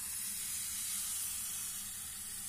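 Gluten-free batter for mini crêpes sizzles in a small hot pan, with a steady close frying hiss that stays even throughout and no talking.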